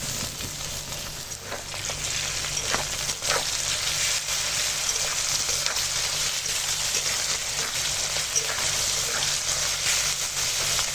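Crushed garlic, chopped onion and green chillies frying in oil in a kadai over a wood fire. A steady, loud sizzle runs throughout with no talk.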